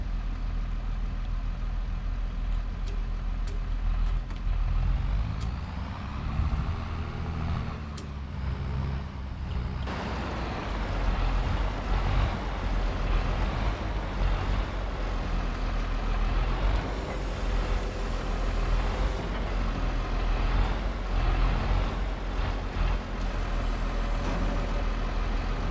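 A tractor engine runs steadily for a long stretch, a low continuous idle with a few rising revs and brief hissing bursts, and nobody speaking.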